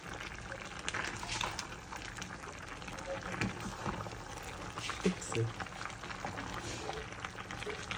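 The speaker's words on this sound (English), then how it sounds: "Let's give it a quick stir." A pot of green bean bredie stew is stirred, giving steady close wet sloshing and bubbling with occasional spoon knocks against the pot, continuous over a constant simmering background.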